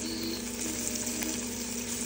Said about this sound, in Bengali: পেঁয়াজ আর আলু দিয়েছি বন্ধুরা, নাড়াচাড়া হচ্ছে।